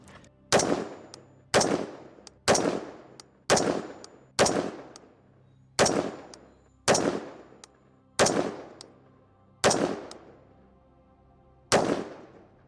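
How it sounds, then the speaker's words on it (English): Ten sharp rifle shots fired one at a time in a group, each a loud crack with a ringing decay, spaced roughly a second apart with a longer pause before the last shot, no talking. "This is the last group, 10 shots."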